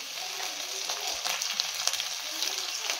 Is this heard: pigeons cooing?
no